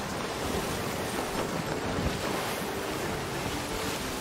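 Ocean waves and water current in the Sea of Thieves game, a steady close wash of surf with wind noise and a broad rushing roar holding even throughout, no voices.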